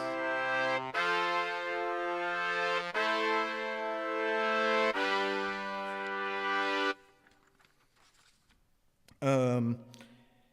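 Sustained chords from several wind instruments of a street band shift smoothly in three blocks, then stop; a short voiced sound follows after a pause.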